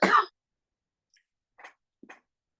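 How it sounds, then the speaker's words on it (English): One harsh, close cough breaks the silence, followed after a pause by two softer, brief throaty sounds. "I'm going to cough again,"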